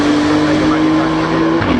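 A Maserati race car drones loudly and steadily at high speed, its engine note holding a sustained pitch before shifting near the end, with track noise around it.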